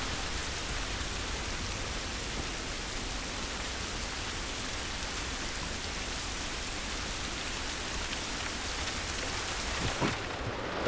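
Constant heavy rain pours down in a dense, even wash of noise in The Last of Us Remastered, with no voices, and a slight shift near the end.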